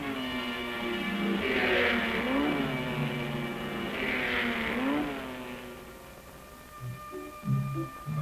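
Early-1960s California drag racing cars accelerate hard down the strip, a loud sustained engine roar with rising revs that swell twice, then settle into lower rumbling with brief extra bursts near the end.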